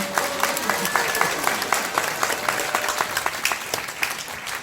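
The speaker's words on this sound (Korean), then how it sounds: "여러분 큰 박수로 환영해 주시기 바랍니다." An indoor crowd at a political rally claps steadily to welcome a speaker onstage, dense sustained applause with a rhythmic pulse of unison clapping running through it.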